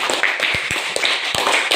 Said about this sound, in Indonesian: tepuk tangan buat Kartika